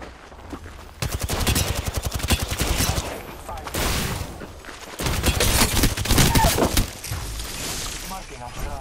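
Rapid gunfire in the video game Apex Legends, two long bursts of fast, sharp shots, loud and close, separated by a brief lull, with game voices heard in between.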